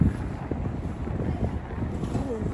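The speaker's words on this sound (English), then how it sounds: "It's a little bit windy." Gusty wind buffeting a microphone outdoors in Fort William, Scotland, a low, rumbling roar that stays steady and close throughout, with a faint voice underneath.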